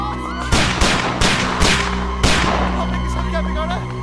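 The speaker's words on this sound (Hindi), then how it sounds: "लगता है कोई गोली चला रहा है।" Gunfire rings out in a Bollywood comedy film scene, with several sharp, loud shots spaced irregularly over a sustained background of film score and ambience.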